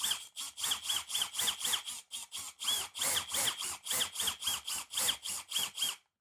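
A drill bores out the crimped rivet on a broken luggage wheel in short, regular pulses, each a loud, close, whining grind that stops abruptly, with no voices.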